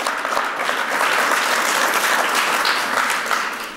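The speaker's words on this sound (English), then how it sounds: "Who's clapping for the 100K?" Steady, dense applause from a large audience at an annual fireside chat event, sustained and loud throughout with no pauses.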